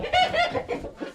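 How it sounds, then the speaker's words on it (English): A rooster clucks close by, a quick run of short, rhythmic clucks packed into about a second, with no talk over it. "He's my favorite rooster."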